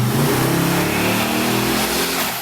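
A truck engine revs hard on a dyno in a shop, a loud, sustained roar that climbs and holds in pitch for a couple of seconds, with no talking over it.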